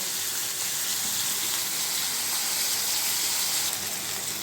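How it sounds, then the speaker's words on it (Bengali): Hilsa fish heads fry hard in hot oil in a pan, giving a loud, dense, unbroken sizzle that holds steady throughout with no talking. "মুড়োগুলো খুব ভালো করে ভেজে নেব কড়া করে একটু ভেজে নেব"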